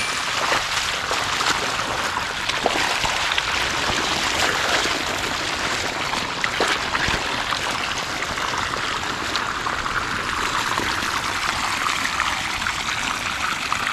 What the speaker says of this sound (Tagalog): Medyo matagal po yung yung paglakad ng tubig dahil tuyong-tuyo na naman.